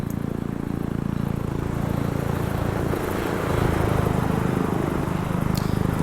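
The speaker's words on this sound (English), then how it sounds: "they've decided to take a helicopter in." A helicopter flies in during an Arma 3 battle on Stratis, its rotor and engine a steady, moderately distant droning rumble that swells slightly midway, with no talking.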